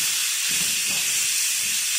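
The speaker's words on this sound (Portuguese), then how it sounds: "Vou dar uma refogada nessa carne moída aqui." Half a kilo of ground beef sautéing in a pan, giving off a steady, bright hiss of sizzling steam. It sounds close and constant, with faint low stirring bumps underneath and no talking.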